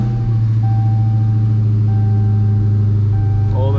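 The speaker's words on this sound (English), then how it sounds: "The car obviously starts up." A Hellcat-swapped Dodge Magnum making about 700 horsepower runs at a loud, steady, deep idle throughout, with a faint electronic chime tone sounding above the engine drone.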